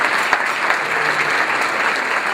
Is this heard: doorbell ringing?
no